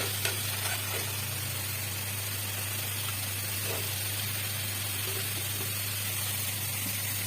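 Bhola fish curry sizzles and hisses steadily as it fries in a pan, with a few soft stirring scrapes over a constant low hum, close by and without talk.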